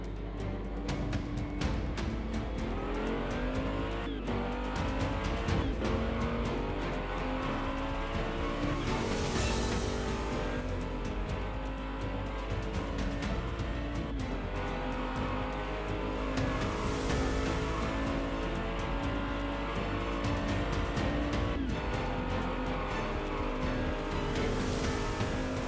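Toy Hot Wheels cars, including an Audi Quattro and a Mustang, race down a track with a steady continuous whir and rattle lasting throughout, loud and close with no talking.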